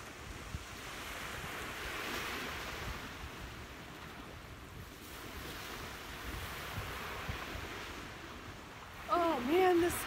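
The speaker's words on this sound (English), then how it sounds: "It's a steady but light breeze." Light, steady breeze and ocean waves washing onto a beach at sunrise, a soft continuous wash of surf with wind brushing the microphone, and a short louder burst near the end.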